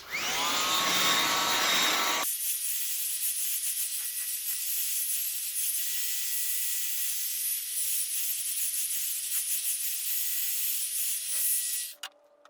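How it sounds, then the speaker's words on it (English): A steady, loud blowing whir from a hair dryer drying paint runs continuously for about ten seconds before cutting off, preceded by a brief rougher burst. "if you use a blow dryer, you can get it to dry much more quickly"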